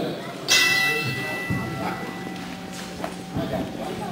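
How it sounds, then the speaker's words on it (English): A bell clangs once with a sharp ringing strike at a wrestling match, its tone fading as thuds of wrestlers moving in the ring and people talking follow. "Ring the bell."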